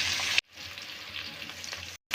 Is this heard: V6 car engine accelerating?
no